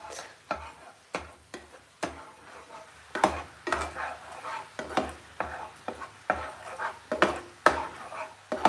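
Puffed rice being stirred into melted jaggery in a pan: repeated scraping and rustling strokes of a spoon against the pan in an irregular rhythm, close and moderately quiet.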